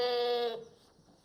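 A goat gives one short, loud, nasal bleat that cuts off after about half a second, followed by quiet.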